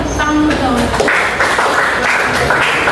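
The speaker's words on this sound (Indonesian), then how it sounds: "Beri tepuk tangan dong." Classroom audience applause during a teaching simulation, a burst of clapping from students in a room that starts after a brief voice and continues fairly loud and close.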